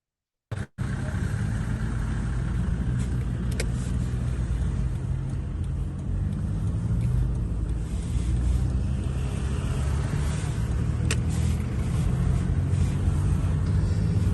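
A long queue of cars waits at the Polish border of Ukraine, giving a continuous low rumble of idling engines and traffic with wind buffeting the microphone and a few faint clicks.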